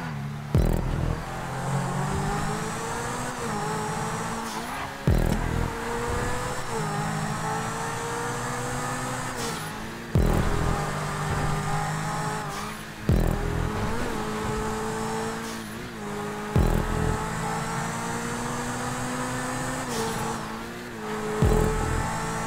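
Racing cars in GTA 5 roar past in a loud, continuous engine drone, revving up and shifting repeatedly with abrupt pitch drops every few seconds, hard tyre squeals now and then and no voices.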